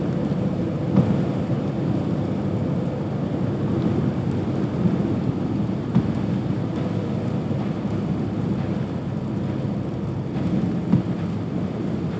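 Constant heavy rain drumming around a car driven slowly at night, a broad low rumble with occasional sharper drips and thuds.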